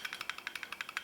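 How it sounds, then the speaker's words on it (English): Beretta APX CO2 airsoft pistol slide working back and forth, a steady, rapid series of about a dozen bright clicks in an even rhythm, close and moderately loud with no voices. "This is the sound of the Beretta APX,"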